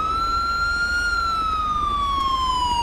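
A fire truck siren in the video game GTA V wails loudly and continuously, one sustained tone that glides slowly up and then down over a low engine rumble, with no talk.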